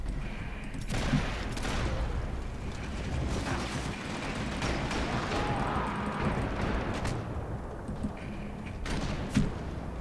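Gunfire from the Max Payne 3 video game plays at a fairly low level, with scattered bursts of shots, mechanical clacks and thuds over a dense background of game noise.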